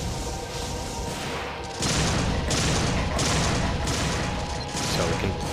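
Shotgun blasts in the Devil May Cry game, fired during the Mission 22 boss fight against Mundus, a dense run of loud, booming shots in quick succession over a continuous roar of battle noise.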